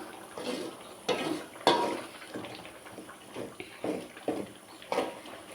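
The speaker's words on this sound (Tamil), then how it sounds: "அப்படியே கிளறி விட்டுட்டே வந்து கிளறி எடுத்து விட்டுறலாம்" Ladies' finger tamarind kulambu being stirred in a pot, giving a series of soft, close scraping and sloshing strokes with a few sharper utensil knocks against the pot rim, spaced irregularly.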